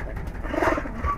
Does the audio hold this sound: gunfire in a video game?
no